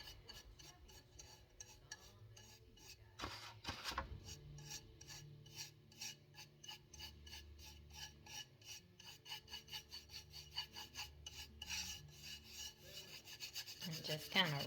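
Antique wax being rubbed by hand onto a quart glass jar, a quiet, close, continuous scratchy rubbing with rhythmic strokes, faint and without talk.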